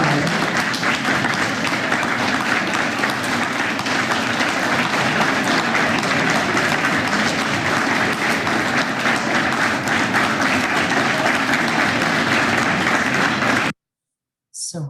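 A lecture audience applauding steadily while trying to clap in sync, a dense, even wash of many hands at close range that cuts off abruptly near the end.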